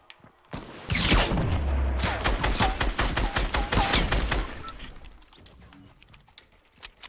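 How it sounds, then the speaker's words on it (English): Rapid Fortnite gunfire starts abruptly and pounds in quick repeated shots for several seconds, then tapers off into a few sporadic distant pops. "I'm going to shoot him from behind and go one by one."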